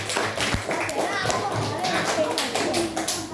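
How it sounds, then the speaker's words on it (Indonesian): A fifth-grade class at an Indonesian primary school claps for a classmate, quick scattered hand claps mixed with lively children's chatter and a few louder thumps close by. "beri tepuk tangan dulu untuk temanmu yang berani masuk"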